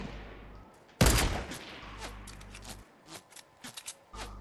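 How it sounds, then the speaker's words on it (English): Gunfire in the Fortnite video game: one loud, sharp close shot followed by a string of lighter, quicker cracks and rattling impacts, scattered and more distant, over a low engine-like hum. "Oh, I'm getting shot."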